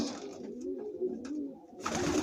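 Racing pigeons, just home from a 63-mile flight, coo softly and steadily at close range, with a low rolling murmur of several birds overlapping throughout.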